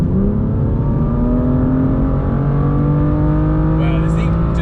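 A 2018 BMW M2 LCI accelerating hard, its engine note droning loud and steady from inside the cabin as the pitch climbs smoothly with no pause.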